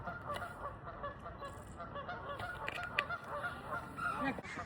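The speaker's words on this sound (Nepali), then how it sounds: "यहाँ यस्तो हेर्दा यहाँ चाहिँ पुरै हाँसहरू छ" A flock of geese or ducks on a lake at a safari park honks and calls repeatedly, faint and somewhat distant, in a busy outdoor setting with murmured voices in the background.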